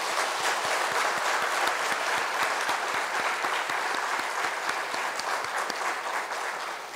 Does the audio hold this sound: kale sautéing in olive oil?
no